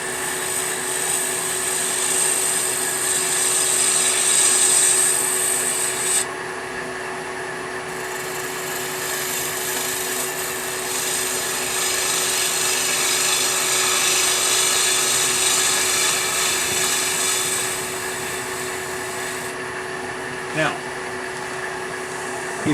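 A woodturning tool cuts into spinning wood on a lathe, held against a smooth tool rest, giving a steady, loud, close whirring hum that shifts in intensity partway through and continues throughout.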